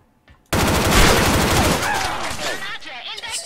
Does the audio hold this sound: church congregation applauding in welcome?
no